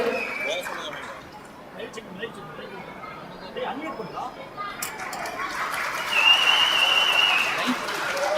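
Audience applause at a Tamil public felicitation ceremony during an Aadi 18 hero-commemoration event, rising into a broader burst of clapping near the end, mixed with crowd chatter and a voice over a loudspeaker.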